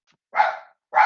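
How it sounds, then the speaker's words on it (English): A dog gives two sharp, loud barks close by, about half a second apart, in an indoor room with no talking. "My dog is barking here."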